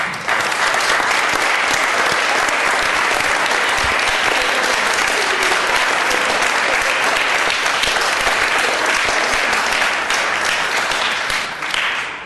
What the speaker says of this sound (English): please give a round of applause to Sergeant Kwan.